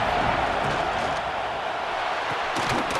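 Stadium crowd in EA Sports College Football 26 roaring during a fourth-down play, a steady dense wash of cheering and noise throughout with no letup.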